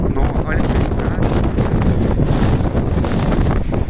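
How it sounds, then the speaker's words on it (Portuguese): Strong wind buffets the microphone high in the Serra da Estrela mountains, a loud continuous roaring gust with no break, with muffled voices in the mix. "Gente, tá ventando muito."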